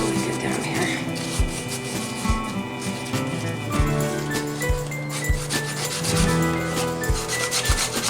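Paper being burnished by hand onto a DIY bracelet box, a repeated rubbing and scraping with soft thumps, fairly close and steady throughout.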